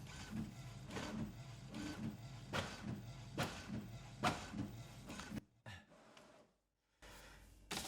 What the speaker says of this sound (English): this also does double-sided printing, which is awesome. So let's give that a shot.